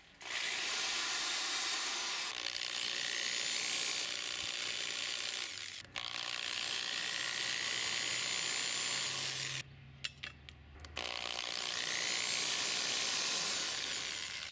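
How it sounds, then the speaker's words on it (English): A drill with a 1/16-inch bit whirring steadily in long bursts, its pitch shifting as it bites into plastic tubing, with a brief pause and a few clicks midway. "I'm going to drill some holes in this plastic tubing"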